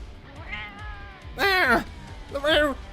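A voice mimics a cat, giving two distinct drawn-out meows in quick succession, close and fairly loud, after a low murmur of background sound.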